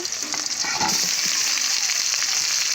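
Potatoes fry in hot oil for a rupchanda fish curry, giving a steady, close, dense sizzle that holds evenly throughout with no voices.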